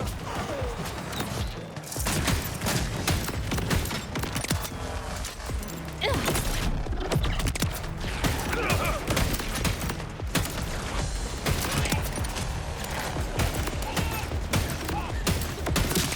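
Gunfire in Borderlands 4 rattles in dense, continuous bursts of shots and mechanical clatter, loud and sustained with brief pauses, with faint voices beneath it.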